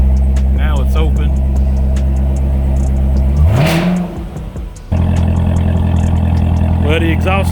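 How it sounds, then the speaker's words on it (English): A 2019 Corvette ZR1 with its exhaust open idles loudly with a rich, burbling low note. It is blipped once into a sharp rising rev, dips briefly, then resumes its throaty idle. "Well, the exhaust is open."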